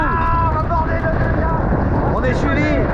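A boat speeds up on the water, its motor droning loudly beneath heavy wind buffeting, while voices talk and shout over it.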